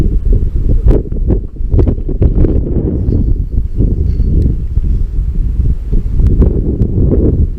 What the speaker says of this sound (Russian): Слышимость будет никакая с таким ветром, говорю